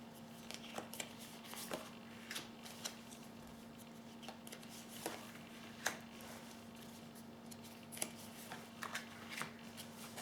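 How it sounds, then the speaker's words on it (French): Tarot cards drawn one by one from a deck, giving soft, brief papery flicks and slides at an irregular pace, quiet and close with a steady low hum behind them. "ensuite, je vais prendre encore 4 cartes."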